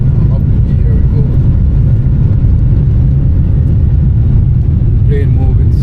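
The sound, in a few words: airplane taking off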